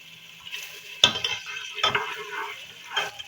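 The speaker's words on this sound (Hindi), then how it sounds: "पहले हम घी या ऑयल कोई भी चीज़ हो वो शामिल करेंगे।" Ghee or oil goes into a cooking pan and begins to heat, giving soft close sizzling with a few sharp clinks of a utensil against the pan, no speech.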